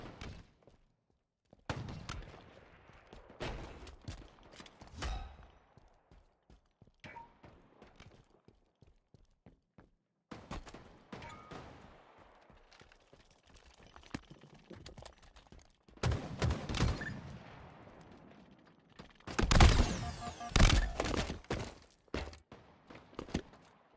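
Gunfire in the Halo video game, with rapid bursts of shots in clustered volleys and pauses, rising to a dense, loud barrage near the end.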